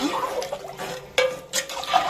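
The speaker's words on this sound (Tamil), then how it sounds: "உங்களுக்கு தேவையான அளவு தண்ணி ஊற்றி நல்லா கரைச்சி விட்டுருங்க" Water poured into tamarind in a pot and stirred for a Narai fish gravy, giving soft splashing and sloshing with a couple of sharper pouring bursts, close and fairly quiet.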